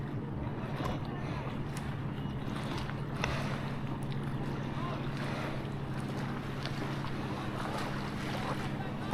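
Wake waves from a passing speedboat slap and splash against a small fishing boat on open water for several seconds, mixed with gusty wind buffeting and the wash of moving water.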